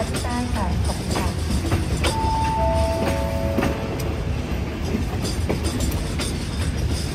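The Thaksinarath express train No. 31 rolls along at Hat Yai Junction in Thailand with a loud, continuous rumble and rhythmic clickety-clack of railcars close by, plus a few brief tonal squeals.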